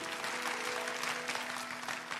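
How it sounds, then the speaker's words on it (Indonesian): Church congregation applauding during a Sunday service sermon, a steady, dense wash of clapping throughout with no voice on top. "Yang percaya kasih tepuk tangan dalam nama Yesus."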